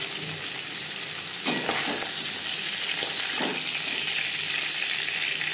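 Fish heads frying in a pan with garlic and onion for a traditional Bengali fish curry, a steady close sizzle with a few scraping stirs partway through, no voices.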